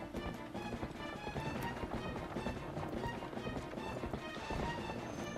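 Horse hooves gallop in The Legend of Zelda: Twilight Princess, a steady, busy clip-clop rhythm that runs throughout alongside game music and ambience.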